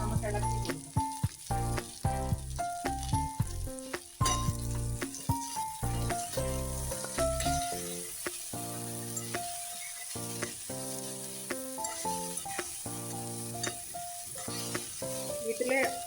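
Okra seasoned with turmeric and salt stir-fries in a hot pan, giving a steady sizzle that sits under prominent melodic background music for the whole stretch.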